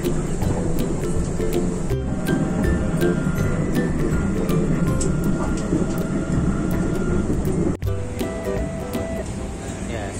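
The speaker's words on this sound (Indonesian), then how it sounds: "enak deh naik kereta bandara yang bisa dimulai dari Manggarai" Steady rumbling of an airport rail link train in motion heard from inside a carriage, with continuous track noise and a faint rhythmic clicking throughout.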